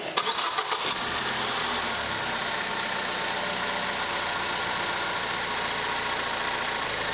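A 2013 Ford Focus engine with a misfire and no-acceleration fault, heard from a few uneven starter-like bursts, then running with a steady, loud, even drone close by, with nobody talking.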